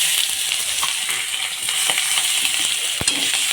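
Dried red chillies, nigella seeds and chopped onion fry in hot oil with a loud, dense, continuous sizzle, broken by an occasional soft knock from stirring.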